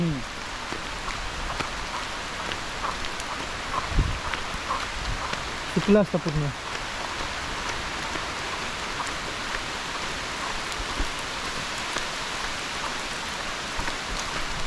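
Heavy rain falls on a village lane in a steady, even hiss, with a person speaking briefly over it.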